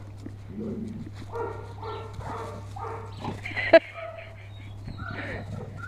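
Two dogs playing and barking, with yips and a sharp bark among quick close vocal bursts, while a person laughs and talks over them against a steady low hum.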